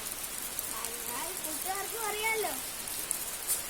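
Rain falls as a soft continuous hiss of drops, faint and steady beneath a person speaking.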